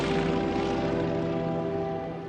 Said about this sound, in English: a Martin Mariner rescue plane set out to look for them